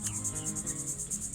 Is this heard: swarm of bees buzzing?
yes